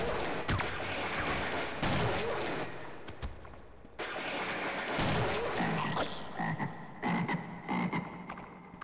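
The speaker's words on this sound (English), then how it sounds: "Chum toads." Chumtoads croaking in the video game Half-Life Black Mesa, several loud, rough croaks repeating among bursts of gunfire-like crashes and game noise, close and busy with no talking.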